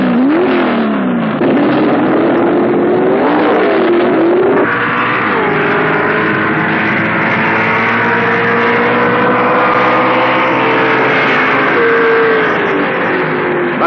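Two 1970 NHRA U.S. Nationals drag racers, a Plymouth Duster and another Plymouth, blast down the strip. Loud, close engines rev and climb through gear changes, then settle into a sustained roar.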